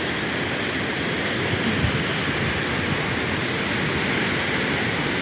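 Strong torrent of water pours over Old Wawa Dam, a thick, unbroken roar of heavy flow heard up close and loud throughout.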